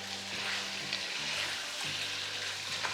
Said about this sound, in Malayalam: ഇഞ്ചി വെളുത്തുള്ളിയുടെ പച്ചമണം ഒന്ന് മാറണം, അതുവരെ ഒന്ന് 2-3 മിനിറ്റ് ഹൈ ഫ്ലെയിമിൽ തന്നെ ഒന്ന് സോട്ട് ചെയ്യുക